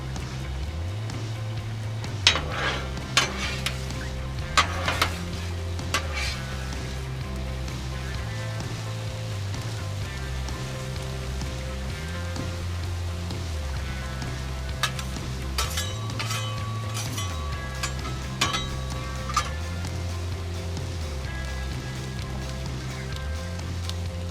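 Potatoes and onions for corned beef hash fry on a Blackstone griddle in a steady, close sizzle, with scattered clinks and scrapes of a metal spatula and a low hum running underneath.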